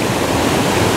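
A mountain stream rushes steadily over rocks, a dense, continuous broadband wash of flowing water with no pauses, close and fairly loud, with no voices over it.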